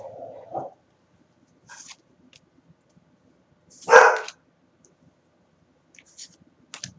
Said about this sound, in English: I think somebody maybe at the door, my dog's kind of freaking out a little bit